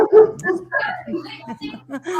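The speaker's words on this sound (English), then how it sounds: "Now my dog's barking." A dog barks and yips several times close by while someone talks over it during a casual conversation indoors.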